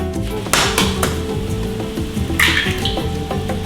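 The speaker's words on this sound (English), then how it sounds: "We're going to crack the egg into our pan." An egg cracked into a hot frying pan while cooking a shakshuka-style egg breakfast, with sharp shell taps and clinks over a steady sizzle, followed by a brighter burst of frying.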